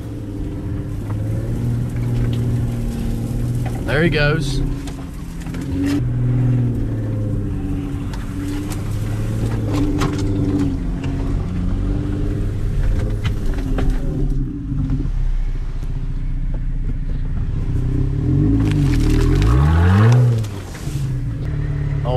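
A Jeep Gladiator strains while reversing through a muddy swamp, its engine droning loud and close with rising revs and surges, and someone speaks briefly over it.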